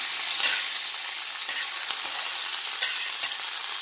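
Boiled chickpeas for banana chaat get stirred in a hot pan, a bright sizzle broken by several scraping strokes of a spoon at an uneven pace, with no talking.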